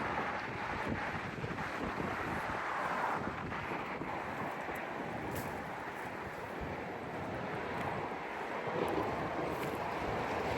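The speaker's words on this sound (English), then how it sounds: "Ooh, a lot of fast flowing water here" Fast-flowing floodwater on a swollen river in December surges in a steady, broad rushing roar, with wind buffeting the microphone throughout and no voices.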